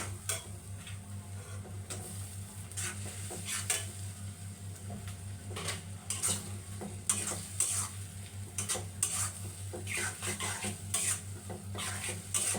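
Tomatoes are stirred into a frying Rita fish masala with turmeric, making a soft sizzle broken by repeated scraping and tapping strokes of a spoon against the pan. The clatter is close and irregular, with no voices.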